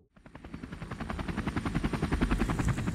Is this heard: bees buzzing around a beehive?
no